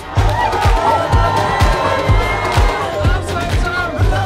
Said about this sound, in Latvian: Šobrīd visi izšķirs jūsu ovācijas.